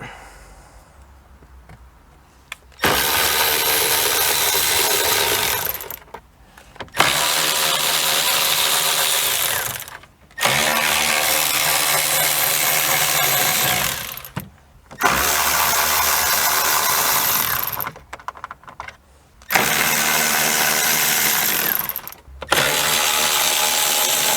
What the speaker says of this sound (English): up next we have 6 7mm bolts to take out